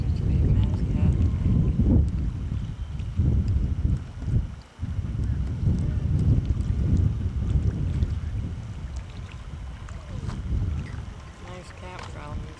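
Wind gusting across a campground at Meziadin in the Yukon region, a steady low rumble with buffeting on the microphone, swelling and easing throughout while people talk faintly in the background.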